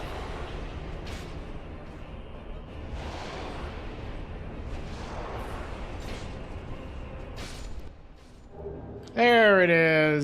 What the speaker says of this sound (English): This is the kind of fight for you, where they just do the explosion over and over again.